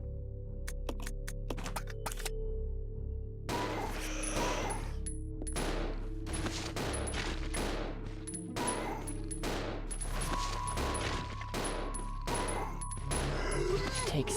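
Rapid gunfire from the Resident Evil Zero video game on GameCube, many sharp shots fired in quick succession over a steady game soundtrack, with a few isolated shots at the start before the dense volley.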